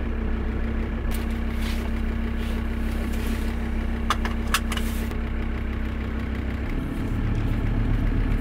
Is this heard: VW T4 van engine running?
yes